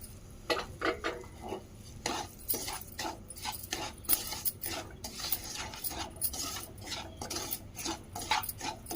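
Semolina is roasted in ghee in a pan, stirred with repeated scraping strokes of a spoon against the metal at an irregular rhythm, close up and moderately quiet with no talk.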